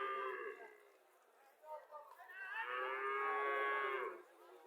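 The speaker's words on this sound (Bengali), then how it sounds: "এখানে আরো একটা গাভী দেখা যাচ্ছে।" A dairy cow at a rural cattle market in Chauddagram, Cumilla, Bangladesh lets out drawn-out, wavering moos, one shorter call followed by a longer rising bellow, moderately distant and soft against a quiet background.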